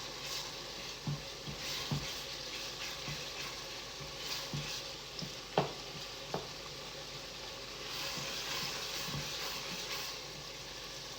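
Steady quiet sizzling of ground meat for Bolognese sauce frying in a pan, with occasional soft scraping and tapping of a utensil.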